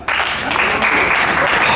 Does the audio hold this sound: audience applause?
yes